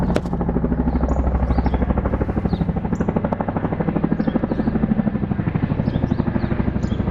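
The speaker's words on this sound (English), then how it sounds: "That's a military helicopter." Steady, rapid thumping of a military helicopter's rotors close by and loud, continuing throughout with light chirps above.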